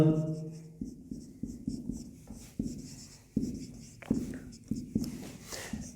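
Pen strokes scratching on paper while a Coulomb's force equation is written out for a physics numerical problem, a steady run of short, close scribbles in quick rhythm with a brief pause partway.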